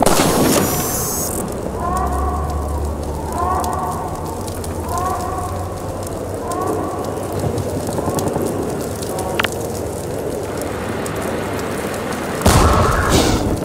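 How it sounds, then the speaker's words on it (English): Grenade explosions and combat in Half-Life 2 start with a loud blast, then a low rumble and crackling debris. Another heavy boom follows near the end. "How about a grenade, Gordon?"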